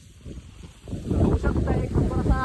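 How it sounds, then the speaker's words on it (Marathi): Strong monsoon wind on Korigad hill fort near Lonavala buffets the microphone with a low, blustery rumble that swells louder after the first second and stays heavy. "वारा भरपूर आहे, एकदम भारी आहे"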